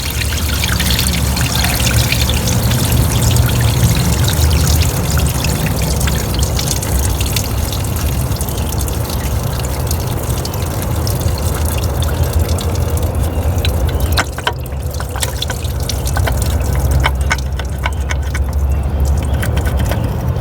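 Coolant gushes and splashes continuously from a 2002-2006 Toyota Camry V6 engine in a steady, noisy rush, like fluid pouring hard into a container, with occasional clinks and drips.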